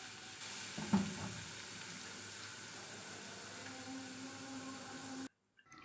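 Ginger garlic paste frying in a pan for a kadhi tadka, a steady close sizzle with faint stirring and a brief clatter near the start, cutting off abruptly before the end.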